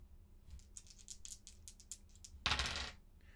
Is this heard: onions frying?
no